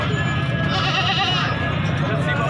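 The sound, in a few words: goats bleating at livestock market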